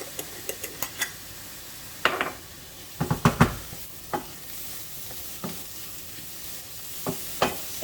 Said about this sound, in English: So we're just going to saute this just long enough to wake up the flavors